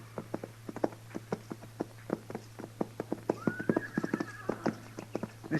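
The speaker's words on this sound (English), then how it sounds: "Mr. Dillon, what do you figure them horses are doing down there?" Several horses clip-clop steadily on hard ground at a moderate distance, the hoofbeats irregular and overlapping, and partway through a single long whinny rises and trails off above the steady clatter, all over a low constant hum.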